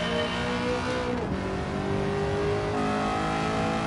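A V8 race car in Gran Turismo 7 revs hard through corners, its engine note rising and falling with steady harmonic drone and a brief tire squeal, loud and continuous with no talk.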